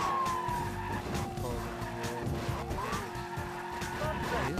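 Tires squeal as a car skids in a driving video game, the engine roaring continuously throughout with the sound held up over the game's backing audio.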